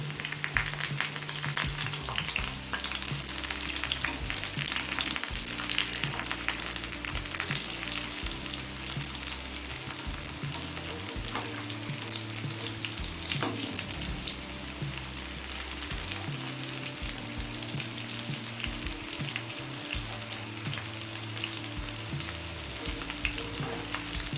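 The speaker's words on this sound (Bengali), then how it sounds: "তেলের মধ্যে আমি বেশ কয়েকটা বড়া দিয়ে দিয়েছি মিনিট দুয়েক ভাজা হওয়ার পর এবার অপর দিকটা উল্টে দেবো" Capsicum pakoras, fried as fritters, sizzle steadily in a pan of hot oil, a dense continuous crackle that stays close and even throughout, with light stirring and shifting in the pan and no voices.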